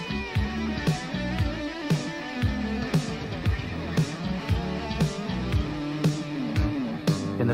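Guitar played through uncontrolled delay, repeats piling up into a cluttered wash of echoes under a busy rhythmic backing track, steady and moderately loud, no talking.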